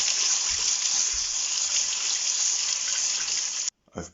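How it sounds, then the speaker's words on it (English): Onions in a colander rinsed under a steady rush of running tap water, a continuous close hiss and splash that cuts off abruptly near the end. "So I've put the onions in a colander, and now I'm going to thoroughly wash them."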